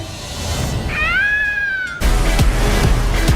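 A cat gives a single rising and falling meow, close and clear, before a louder burst of background noise and movement takes over.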